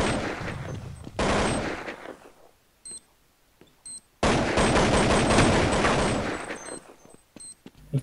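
Video game gunfire at a breach during a bomb-plant round, with rapid automatic bursts in two long volleys separated by a near-silent gap and a few short isolated shots and clicks, close and loud.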